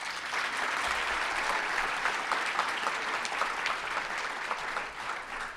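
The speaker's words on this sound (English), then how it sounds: "another round of applause" Audience at a STEM awards ceremony clapping in sustained, dense applause for several seconds, fairly loud and even before tapering slightly near the end, with no talking over it.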